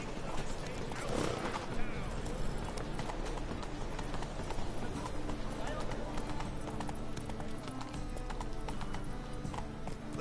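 Roach, the horse in The Witcher game, gallops with a steady, driving clip-clop of hooves that runs throughout, moderately close, while a voice talks over it.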